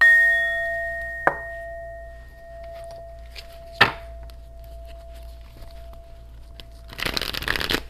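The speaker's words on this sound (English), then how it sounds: "I'm just going to ding the bell." A bell rings with a bright, sustained tone that fades slowly, a sharp tap follows, and a rustling shuffle of cards closes the sequence, all close and with no voices.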